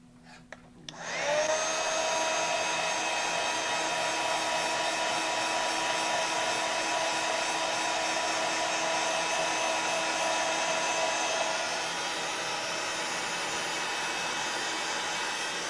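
A hair dryer switches on after a brief click and blows steadily at close range, drying mixed media artwork on an artist trading card; a constant whirring roar with a slight drop in pitch near the end, no talking.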